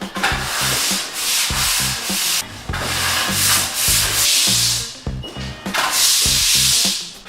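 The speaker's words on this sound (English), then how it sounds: "I'm gonna move it around a little bit with this broom" A broom sweeps debris across a garage floor in repeated scratchy, rasping strokes, loud and close, with brief pauses between strokes and no talking.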